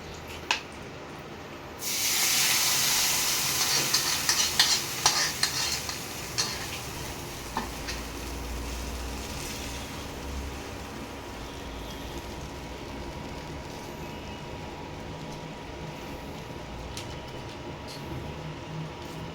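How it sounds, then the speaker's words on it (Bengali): Spice paste drops into hot oil in a pan on an induction cooktop for a pointed gourd dish, bursting into a loud sizzle with spatter and stirring clicks before easing into a softer steady fry. "এবারে এই মশলার গোলাটা আস্তে আস্তে এর মধ্যে দিয়ে দেবো।"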